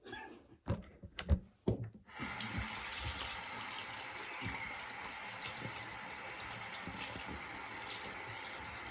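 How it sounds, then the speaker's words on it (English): A faucet is turned on after a few knocks and clatters, and then tap water runs steadily and loudly over hands being washed, a continuous close gush with no talking. "I already washed my hands, but we don't want any problems, so I'm gonna wash them again"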